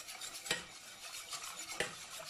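A spoon stirs pudding mixture for an apple cake in a pot, making soft, faint scraping swirls with two sharper clinks against the side, without any talk.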